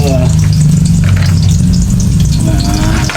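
Garlic sizzles loudly in a little oil in a pan alongside sardines, a dense continuous frying hiss close up with some stirring underneath.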